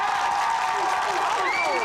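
Studio audience applauding on a Quebec TV game show set, a short steady burst of clapping with crowd noise and a voice speaking over it.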